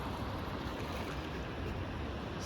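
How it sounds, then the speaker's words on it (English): River water streams past a small waterfall beside a bridge near an old abbey, a steady broadband rush that stays even and fairly distant throughout, with no voices. "They got a small waterfall."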